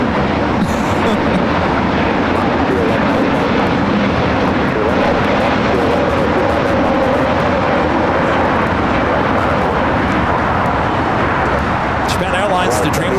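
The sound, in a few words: Boeing Dreamliner airliner at LAX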